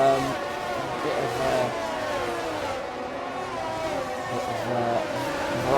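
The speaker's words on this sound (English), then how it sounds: "as Firmsy leads the cars away on the first formation lap of F1 22." F1 22 race car engines on the formation lap of the Spain round in a video game, a steady droning engine hum with shifting revs throughout, fairly loud and continuous.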